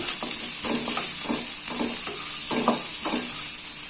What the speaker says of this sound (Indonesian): Bawang putih, bawang merah saya tumis duluan.